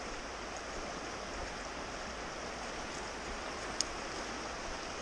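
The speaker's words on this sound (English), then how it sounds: "Fast, fast water." Fast water of Penns Creek rushing over rocks, a steady broadband wash with no let-up, heard close and moderately loud, with one brief click near the end.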